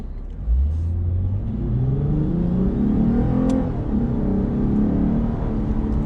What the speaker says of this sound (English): I'm gonna do another acceleration run.